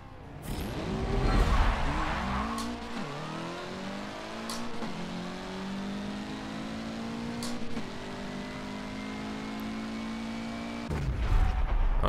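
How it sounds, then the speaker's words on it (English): A 700 hp Mitsubishi Evo 8 with a 4G63 engine in Forza Motorsport 7 revs hard on a drag run, climbing in pitch through gear changes with brief shift breaks, loud and continuous before a final rev. "on this run I really want to hear the 4G63 scream"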